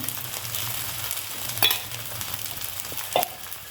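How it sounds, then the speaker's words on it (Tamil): Potato pancake frying in oil in a pan over low heat, a soft steady sizzle running underneath with a few brief clinks or stirs standing out, close by and quiet, no talking. "எண்ணெய் மட்டும் சுற்றி ஊற்றணும் இப்போ நம்ம குறைச்ச தீயில் கொஞ்சம் நேரம் அப்படியே வேக வைக்கணும்"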